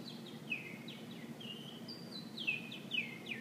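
Outdoor bird calls, a series of short whistled chirps and descending notes repeating every half second or so, faint and somewhat distant over low background hum.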